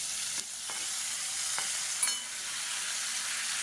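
Tomatoes with red chillies and a little tamarind frying in a pan for tomato chutney, a steady soft hiss with a few faint stirring clicks and no talk.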